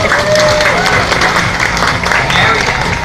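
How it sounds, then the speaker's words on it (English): An audience at a zoo sea lion show claps and cheers in a dense, sustained burst of applause that fills the whole moment, with voices and whistles mixed into the crowd noise. "We actually do train our Sea Lions to recognize applause as a form of reinforcement."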